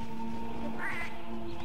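Cats meowing inside the Monster Hunter Freedom 2 game, a couple of soft high calls over steady game music and ambient hum.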